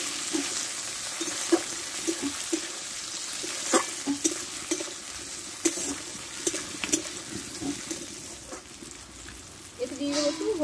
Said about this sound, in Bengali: আর দেবো কাঁচা লঙ্কা কুচনো দিয়ে এটা ভালো করে একটু ভেজে নেবো আমি।